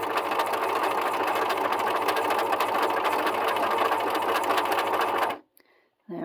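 A sewing machine stitches down the middle of a festive garland circle, a loud steady whirring rattle running continuously for about five seconds before stopping abruptly, with a brief quiet gap.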